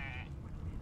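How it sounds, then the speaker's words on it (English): A sheep bleats in the Divinity: Original Sin 2 video game, a short, faint bleat that wavers near the start and then trails off over a low background hum. "Sheep."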